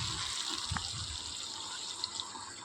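Water pours steadily into a pan of dhokar dalna cooking with potatoes. A continuous hissing splash runs close and moderately loud through the whole clip, with no one talking.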